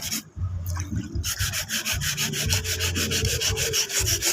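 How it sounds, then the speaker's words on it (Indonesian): Rhythmic rubbing strokes of sandpaper over body filler on a motorcycle body panel, fast repeated scrapes close up with steady intensity and no talking. "Kita gosoi sampai halus, sampai merata"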